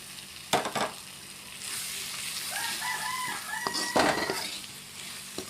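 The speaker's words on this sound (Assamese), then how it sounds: "মই এতিয়া এটা কণী দিয়ে ভাজিছোঁ" An egg fries in a pan for a stir-fry of vegetables, a soft continuous sizzle with a few louder clattering bursts, and a rooster crowing faintly in the background.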